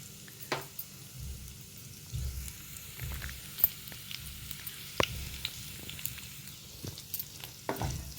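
Garlic, green chillies and curry leaves fry in hot oil with cumin and mustard seeds for a okra tomato curry, a low steady sizzle with scattered pops and sharp spatter crackles, close and fairly quiet, no talking.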